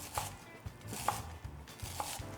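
A knife dices vegetables on a cutting board in quiet, evenly spaced taps, several light chops in a steady rhythm.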